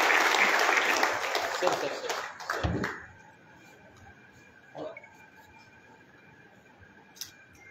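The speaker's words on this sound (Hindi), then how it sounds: "एक बार जोरदार तालियां हो जाए ओसवाल संघ के" Applause at a community felicitation event honoring helpers, a burst of clapping from the gathered audience that fades out after about three seconds, leaving a quiet room with a few faint stray sounds.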